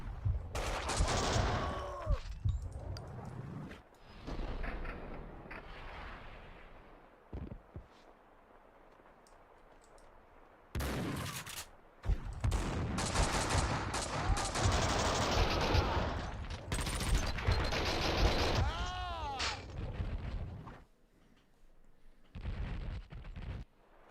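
Video game gunfire from Max Payne: repeated bursts of shots and blasts come in irregular clusters, some loud and sharp, with quieter gaps between the volleys.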